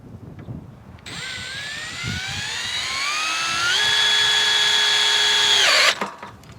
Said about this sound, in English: I'm going to screw right into the side of the solar panel